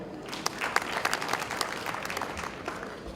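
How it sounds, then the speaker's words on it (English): A crowd applauds steadily throughout at an awards gala night, dense overlapping claps with a few sharper individual claps standing out, moderately loud and close. "Let's clap for her."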